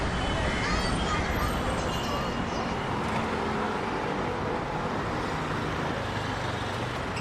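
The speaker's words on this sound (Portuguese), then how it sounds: "Os prédios altos ecoam os sons dos carros, conversas e latidos, formando uma cacofonia infinita." City street traffic ambience among tall buildings: a steady, distant wash of passing cars and road rumble, continuous and moderately faint.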